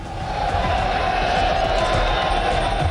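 A massive crowd of pilgrims gathered at the Mahakumbh in Haridwar produces a dense, steady roar of many voices, loud and continuous throughout, with no single speaker standing out.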